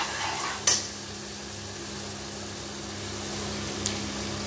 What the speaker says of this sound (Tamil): நல்லா பொறுமையாக வதக்கணும்.